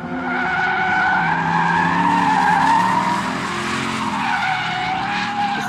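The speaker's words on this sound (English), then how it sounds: "This is definitely my first time seeing a Mustang drifting, I'll tell you that." A Ford Mustang drifts in a drift class at the TC1000 track, its tires squealing in a long, loud, wavering screech while the engine roars underneath, with no talk.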